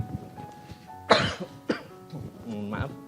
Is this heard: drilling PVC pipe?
no